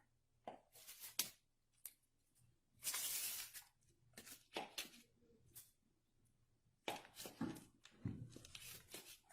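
A pastry cutter works cold butter into low-carb dark chocolate chip scone dough, giving quiet, irregular crunching and scraping strokes in short bursts with pauses between.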